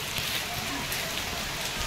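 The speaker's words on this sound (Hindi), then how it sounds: "बारिश का मजा लग रहा है।" Rain patters down onto surfaces in a Maharashtra downpour, a continuous close wash of droplets with faint voices murmuring underneath.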